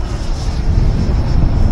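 E-flite Viper 90mm electric ducted-fan RC jet performing aerobatic passes on a gusty day, a steady loud rushing whine with a thin high tone held throughout, no pauses.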